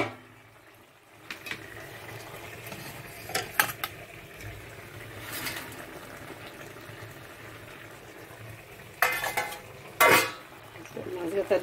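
Fish dropped into a pot of boiling water with lai saag greens, giving soft splashes, scraping stirs and clinks of a utensil against the pot over a steady low bubbling simmer, with a few brief sharper bursts near the end.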